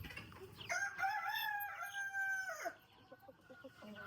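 A rooster on a small farm crows once, a long, loud call lasting about two seconds, with a few soft chicken clucks before and after it.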